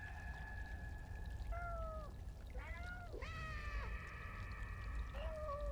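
A cat meows several times in a cat video game, giving drawn-out falling and wavering mews over a steady low background hum, fairly clear against quiet game ambience.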